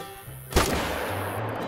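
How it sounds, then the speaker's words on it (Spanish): A single hunting rifle gunshot in theHunter Call of the Wild, a sudden loud blast followed by a sustained noisy roar and rumble of echo that fills the rest of the moment, with no talk. "Respiro y disparo."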